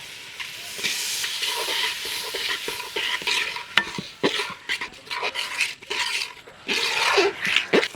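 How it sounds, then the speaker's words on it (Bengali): Rice and lentils fry in oil with onion, green chilli, turmeric and salt in a pot for village-style khichuri, sizzling and hissing loudly as a spoon scrapes and stirs in repeated strokes. "এবার দিয়ে দিব চাল ডাল।"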